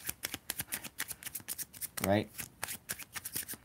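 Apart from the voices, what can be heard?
shuffling a deck of playing cards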